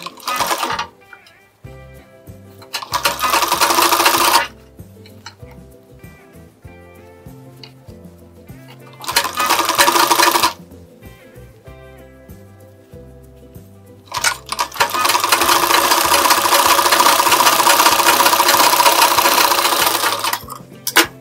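A sewing machine stitches a lined blouse in three separate runs of loud, steady mechanical whirring close by, with quieter handling clicks and pauses between the runs and the longest run at the end.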